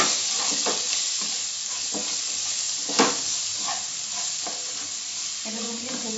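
Sliced onions sizzling with crab in a hot pan over a medium flame, a steady close hiss broken by occasional stirring scrapes.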